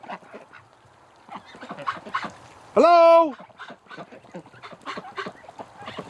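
A single loud, nasal honking quack from Pekin breeding ducks at night, close by, set among a person's soft talking before and after.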